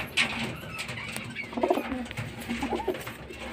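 A newly paired male and female pigeon coo in soft, throaty bursts, close by, with a couple of rolling calls about a second apart over a faint background hum.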